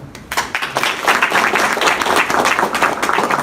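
A crowd at a community meetup breaks into applause, a quick rise into dense, loud clapping from many hands that holds steady and close for a few seconds.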